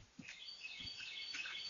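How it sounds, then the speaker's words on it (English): Birds chirp in an early morning residential neighborhood in Germantown, with scattered high calls over a faint, steady outdoor hum. "The early morning sounds of birds chirping in this Germantown neighborhood"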